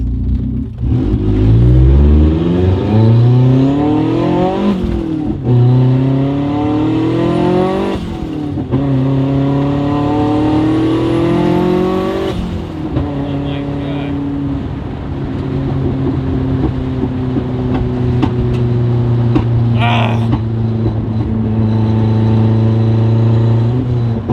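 A 450 wheel-horsepower Genesis accelerates hard through several gears, its engine note climbing in repeated rising sweeps with brief drops at each shift before settling into a steady loud drone, close and continuous with no talk.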